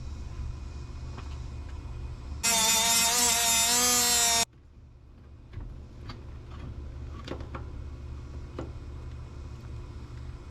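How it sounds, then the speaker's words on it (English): A power grinder smooths a hammered bulge on a rusted, seized car starter, whining loudly at a steady pitch for about two seconds before cutting off, followed by quieter clinks and handling sounds. "I gotta grind that"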